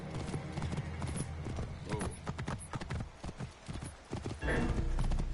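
Horse hooves clip-clop steadily while riding in the video game Assassin's Creed, a close rhythmic trot with game ambience and brief vocal noises over it.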